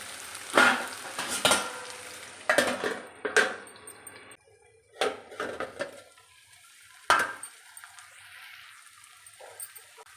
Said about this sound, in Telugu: మామిడికాయ ముక్కలు వేసిన తర్వాత కొంచెం కదిపి మూత పెడదామండి